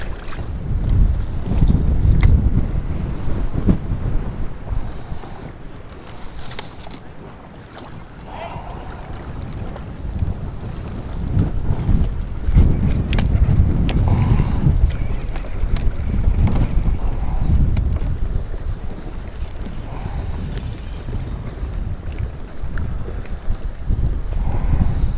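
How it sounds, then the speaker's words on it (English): Strong wind blowing across a lake during bass fishing from a small boat, roaring and buffeting the microphone in loud, uneven gusts that swell and ease for the whole stretch, with no talk. "this wind is brutal. You're probably having a tough time hearing me"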